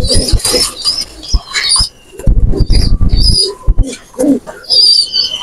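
Pigeons at a high-flying pigeon loft in Khulna, including a male Nil Dumba, give close, soft throaty coos in short bursts, with scattered rustling and shuffling between calls.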